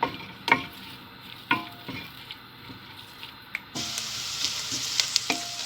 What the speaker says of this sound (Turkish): Ardından soğanlarımı biraz kavuruyorum